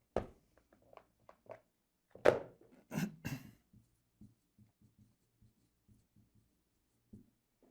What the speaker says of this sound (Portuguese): Deixa eu escrever mais bonito aqui.